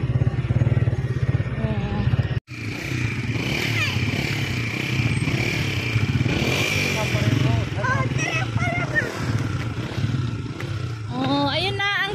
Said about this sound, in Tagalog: Ipasok mo yung motor doon.